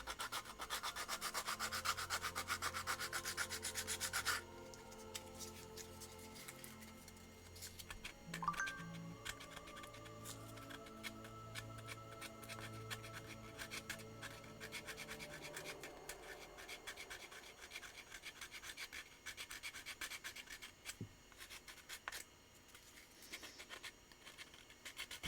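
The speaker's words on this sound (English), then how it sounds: "I think I need new sandpaper on this." Sandpaper rubbed on a surface in a tight, awkward spot, giving a dense, continuous scratchy rasp that is heaviest at the start and then settles into quieter, uneven strokes with a few brief clicks, with no talking.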